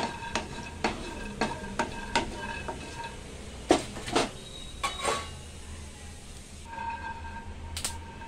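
Peanuts rattle and scrape in a hot pan on a stove as they are stirred and roasted, with sharp metallic clinks in irregular bursts and a faint background hiss, close and fairly quiet.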